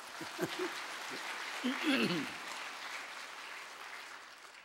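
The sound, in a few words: congregation applause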